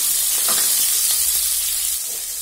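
Green chillies frying in a pan give a loud, dense, hissing sizzle that holds steady, with a few soft stirring sounds underneath, fading slightly at the end.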